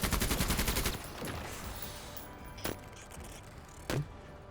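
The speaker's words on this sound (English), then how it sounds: "let's shoot the chain gun" Chain gun in the sci-fi tactical game Menace firing a fast, loud burst of evenly spaced shots for about a second, followed by battle ambience and two isolated sharp impacts.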